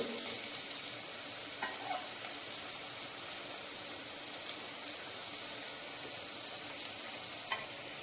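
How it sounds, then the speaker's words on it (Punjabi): Garlic frying in a pan, a steady dense sizzle holding at an even level throughout, with a couple of faint clinks of stirring, no voices. "ਤਾਂ ਦੇਖੋ ਸਾਡਾ ਲਸਣ ਅੱਛੀ ਤਰ੍ਹਾਂ ਫਰਾਈ ਹੋ ਰਿਹਾ"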